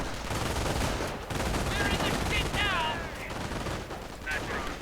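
Automatic MG42 machine-gun bursts in a World War II strategy video game, rattling almost continuously amid other battle gunfire and whistling effects, with a commentator's voice running underneath.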